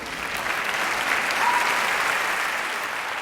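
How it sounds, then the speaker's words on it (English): An audience at a staged event claps continuously, the applause swelling slightly in the middle and staying dense and even throughout. "I'm clapping for my wife."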